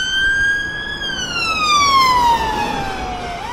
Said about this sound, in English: And I can hear the siren. Unless it's an ambulance.